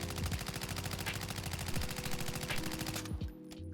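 M13 rifle firing in Warzone 2: a sustained rapid automatic burst with an even, fast rhythm, close and loud, stopping abruptly near the end with a brief tail.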